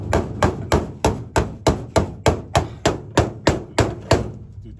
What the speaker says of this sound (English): Dude, the hammer doesn't do shit.